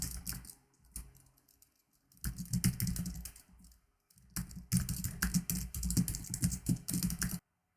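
Typing on a computer keyboard to commit changes to a Git repository: close, crisp key clicks in rapid bursts separated by short pauses, ending abruptly in silence.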